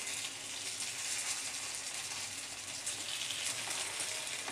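Poha cutlet patties fry steadily in a pan, a continuous close crackling sizzle with no pauses and no voices.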